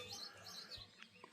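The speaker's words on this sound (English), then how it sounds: "oh, little robin" A robin chirping in a high mountain village at about 1,000 metres, thin repeated high tweets over faint background hum, fairly quiet and distant.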